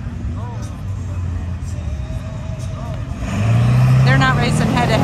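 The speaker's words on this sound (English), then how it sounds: "All right, Mega Trucks are up next." A mega truck engine rumbles at an off-road mud race, a low drone that swells and grows louder partway through, with crowd and announcer voices mixed in.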